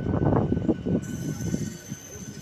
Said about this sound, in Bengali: ট্রেন ছেড়ে দিল কাটোয়া জংশন